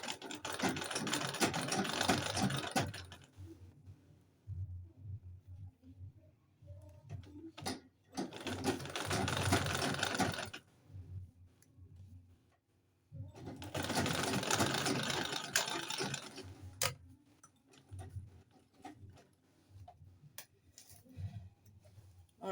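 A sewing machine stitches along a corset neckline in three separate runs, each a steady mechanical whir lasting a few seconds, with quiet ticking handling sounds in the pauses between.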